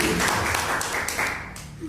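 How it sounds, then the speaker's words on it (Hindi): An audience at an Altos business plan presentation breaks into brief, dense applause, a short burst of clapping that tapers off within two seconds. "तो जोरदार ताली ऐसा विजन के लिए"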